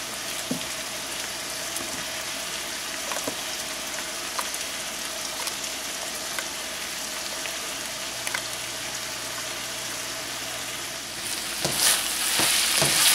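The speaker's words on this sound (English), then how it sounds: "get you a ladle and start stirring this" A ladle stirring a pot of chilli with Italian sausage, a constant close frying hiss with faint scrapes and clicks throughout, swelling louder in the final seconds.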